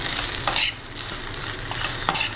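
Masala vermicelli stirred in a hot, sizzling pan: steady frying hiss with a few sharp scraping strokes of the spoon, close and fairly loud.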